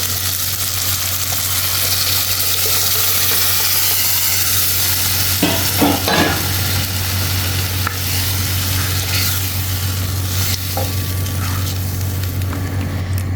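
Loud, constant sizzling from a hot pan with bursts of bubbling and stirring scrapes as fish curry liquid hits the oil; no voices.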